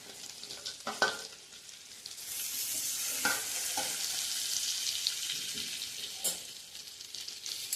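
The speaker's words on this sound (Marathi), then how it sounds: "आता गॅस बारीक करून जरा असं छान परतून घ्यायचंय" Masala for Marathi-style stuffed brinjal curry frying in a pan, a steady sizzle broken by scraping stirs and spoon clinks, close and moderately quiet with no talking.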